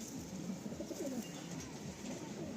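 A racing pigeon coos in a loft, low soft murmuring calls repeating faintly over a quiet steady room hum, with no talking.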